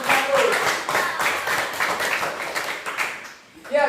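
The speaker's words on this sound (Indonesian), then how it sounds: "tepuk tangan buat kelompok 1." Applause from a school classroom as a group finishes presenting, a dense patter of many hands clapping fairly close and steady for a few seconds before fading, with a brief voice at the very end.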